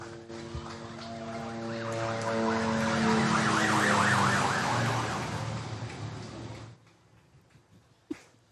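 A wailing emergency vehicle siren passes near a high school soccer field, swelling loud and then cutting off, followed by quieter background with a sharp knock.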